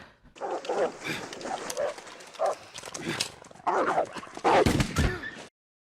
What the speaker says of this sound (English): Nah, that dog is not giving up, that's for sure.